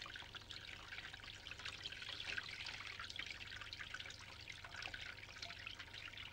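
Tap water runs in a soft, continuous trickle while someone brushes their teeth in an animated cartoon, faint and steady with no voices.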